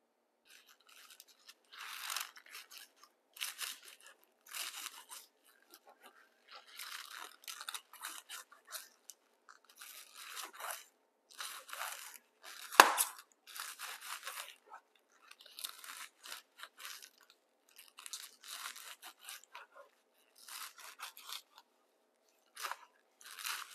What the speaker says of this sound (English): let's cut up our greens